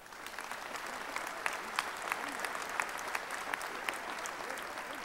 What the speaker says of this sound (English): Let's bring her to the rostrum with a round of applause, Sister Roberta Abdul-Salam.